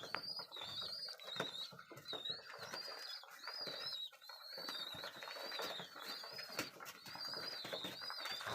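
Pigeons, including a sky-blue bird with its young trailing behind, call with soft overlapping coos and chirps throughout, close and steady, amid rustling and movement.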